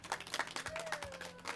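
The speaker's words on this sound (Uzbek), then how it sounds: "Qarsak balandroq bo'lsin." Applause from an audience at a celebration honouring a mother, a dense, steady patter of clapping that carries through the whole stretch without any talking over it.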